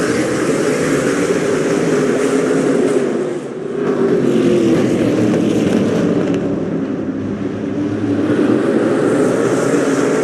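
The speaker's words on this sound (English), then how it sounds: "Here comes the field toward the start line in turn number 4, and week 3 of the Superstar Racing Experience is green" SRX race cars pull away from a green-flag start at Motor Mile, a loud, sustained engine roar from the field that dips briefly before building again.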